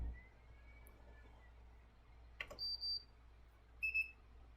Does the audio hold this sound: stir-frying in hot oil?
no